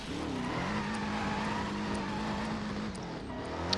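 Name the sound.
car drifting along a wall in the video game Driver San Francisco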